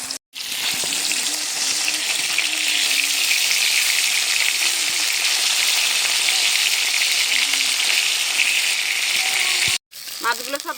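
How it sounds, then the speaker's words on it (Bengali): Nihare fish fry in hot oil with a loud, steady, dense sizzle that runs almost unbroken, cutting out briefly near the start and again near the end, where faint movement follows. "এইভাবে কিন্তু নেহেরে মাছ বেশ সুন্দর করে ভাজা যায়"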